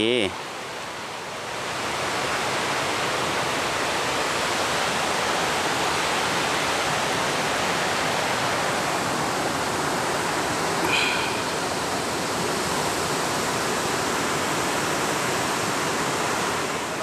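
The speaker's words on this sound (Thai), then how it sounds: "บ่อน้ำตกตัวสูงสุดนี่เนาะ" The heavy roar of Tad Kuang Si waterfall near Luang Prabang runs as a constant, dense rush of falling water from start to end. A brief higher chirp cuts through near the middle, and no one talks.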